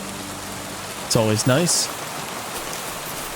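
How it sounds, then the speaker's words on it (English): Steady rain hisses throughout the video game Kingdom Come Deliverance 2, a soft, even wash of falling drops that continues unbroken beneath a brief spoken line from a man. "it's raining"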